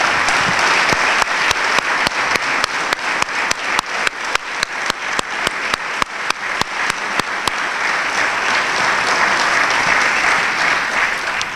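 Audience applause at a local council swearing-in ceremony in Alcanena, Portugal, loud sustained clapping with a stretch of rhythmic, synchronized claps in the middle before settling back into a steady wash.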